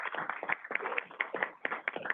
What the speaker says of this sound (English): let's do a round of applause for Phil for all the great work.